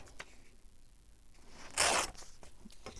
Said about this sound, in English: I'm just going to tear this off.